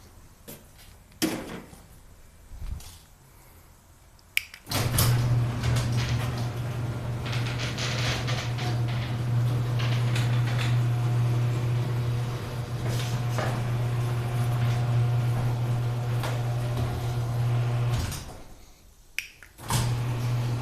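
A new Chamberlain opener drives an old wood Overhead Door garage door, giving a steady, fairly quiet low motor hum for about thirteen seconds, bracketed by clicks and clunks as the run starts and stops.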